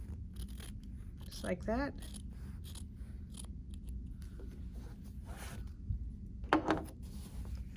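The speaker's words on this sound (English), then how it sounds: "And now we're just going to cut." Scissors snipping through quilting fabric in a couple of short cuts, close and fairly quiet, with a person speaking briefly over steady low room noise.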